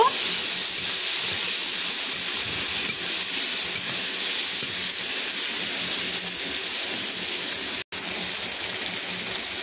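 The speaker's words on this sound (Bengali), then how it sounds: "তো টমেটোটাকে ভালো করে নাড়াচাড়া করে নিয়েছি।" Tomatoes cooking in a pan with turmeric and salt for a sea fish curry give off a loud, continuous close sizzle and hiss that runs unbroken, apart from one brief cut near the end.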